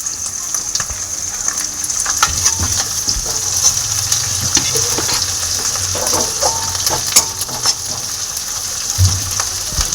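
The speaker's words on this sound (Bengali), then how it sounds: "দিয়ে একটু ভালো করে আমি ভেজে নেব।" Whole cumin seeds frying in oil in a pan with chopped ginger, garlic and green chilli, a steady close sizzle with light scraping and stirring throughout.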